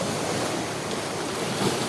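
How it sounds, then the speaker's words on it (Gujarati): Sea waves at full high tide churn as a steady, dense wash of surf with wind noise over the microphone, continuous and fairly close, with no voices. "ફૂલ ભરતી દરિયાની હાલ"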